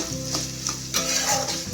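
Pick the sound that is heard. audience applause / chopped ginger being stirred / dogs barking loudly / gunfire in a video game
chopped ginger being stirred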